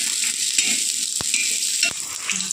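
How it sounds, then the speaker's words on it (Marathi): Onion frying in oil on a griddle, a loud dense sizzle running throughout, with two sharp utensil clicks partway through and no talking. "तेल टाकून गुलाबी कलर येईपर्यंत आपल्याला कांदा छान फ्राय करून घ्यायचा आहे"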